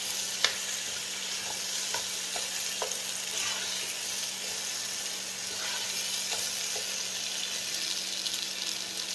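Fajita ingredients cooking in a pot, a steady bright sizzle with occasional small clicks of stirring, close and even throughout.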